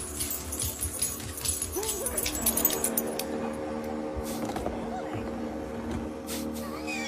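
Dogs whimper, yip and scuffle amid clinking and background commotion, several brief animal cries rising and falling close by over a busy, noisy room.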